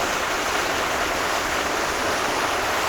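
Water rushes steadily through channels among village crop fields, a close, even hiss that holds constant and fills the whole moment without any voices.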